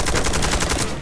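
Rapid automatic gunfire in the shooter game Eximius: Seize the Frontline, a loud, dense burst of evenly spaced shots lasting about a second before cutting off.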